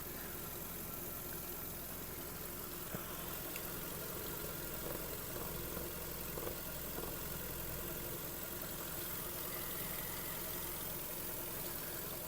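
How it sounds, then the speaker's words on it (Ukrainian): A 2010 Volkswagen Touran 1.6 MPI engine idles with a steady, low, even hum, running smoothly and quietly throughout with no other sounds. "Мотор працює дуже тихо рівно, не димить, не труїть"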